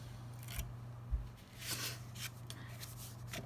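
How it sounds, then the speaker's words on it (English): A paper trimmer slices through cardstock during card making, giving a few quiet scraping swipes of the blade over a steady low hum, close and soft. "I'm going to bring my trimmer back over and go ahead and make some cuts."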